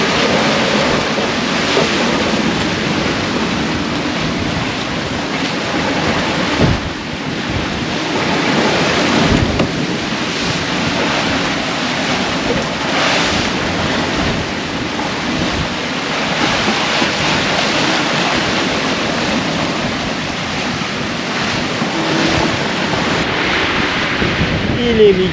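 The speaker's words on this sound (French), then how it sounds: "Le vent s'est peut-être un petit peu calmé" Constant wind roars across the microphone over the rush and wash of waves against a moving boat, loud and unbroken throughout.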